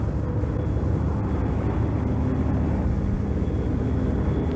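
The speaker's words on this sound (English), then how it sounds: "The aircraft banks away at high speed." A World War II bomber aircraft banks away at high speed after a bombing run over Japan, with a steady, loud, droning engine roar that holds throughout.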